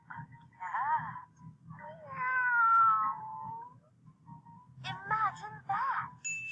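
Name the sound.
cat meowing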